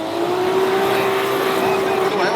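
A roaring engine note from a 1,000 HP drift car making its qualifying pass at a drift event in Thailand, loud and steady with a sustained high whine, close by with voices over it.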